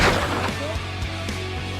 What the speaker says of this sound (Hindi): राजन ने फिर गोली चलाई